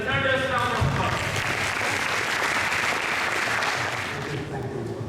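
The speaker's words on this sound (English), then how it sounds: "Please put your hands together and help me welcome our keynote speaker, distinguished Toastmaster Perry, with a thunderous round of applause" Audience at a mental health and wellbeing event applauding to welcome a keynote speaker, a dense sustained round of clapping throughout that tapers slightly near the end, with some voices over it at the start.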